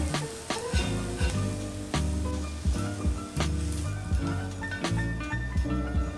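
King oyster mushrooms stir-fry in oil until golden, a close, steady sizzle broken by repeated sharp clacks of a utensil stirring and scraping the pan.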